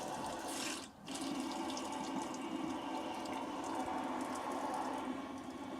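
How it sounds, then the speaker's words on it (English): Water runs steadily through a bidet toilet fitted in a small RV, making a continuous hissing flow with one short dip early on before the stream settles again. "But at least the water is flowing."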